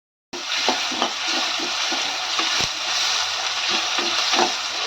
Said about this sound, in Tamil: இப்போ வெங்காயத்தை வதக்கிட்டு தக்காளியை போட்டுட்டு இஞ்சி பூண்டு போடுவோம்